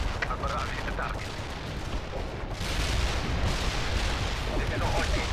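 A World in Conflict artillery barrage rolls on as a steady, distant crackling rumble that grows slightly heavier partway through, fairly faint and without sharply separated blasts.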